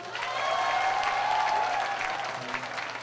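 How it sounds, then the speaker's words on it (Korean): A youth congregation at a church Holy Spirit festival practises a warm round of applause, a full steady crowd clapping that swells in the middle, with faint cheering tones mixed in. "뜨거운 박수 한 번만 연습하겠습니다"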